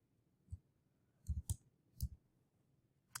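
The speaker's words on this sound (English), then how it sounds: "or I'm going to click on it." A few soft, close computer mouse clicks land singly and in a quick pair, spaced apart against near silence.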